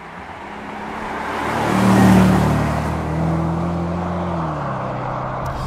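A 2005 Jaguar XKR (X100) on 20-inch split rims accelerates hard from 30 to 50, its engine note swelling to a loud peak, then dipping briefly at an upshift before pulling on steadily, with no talk over it.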